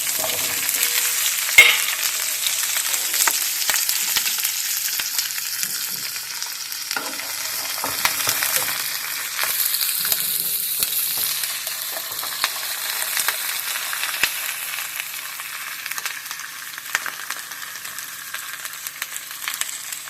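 Chopped onion, garlic and capsicum fry in a pan at medium heat with a steady, close sizzle and crackle that runs throughout, broken by occasional sharp clicks and scrapes of stirring.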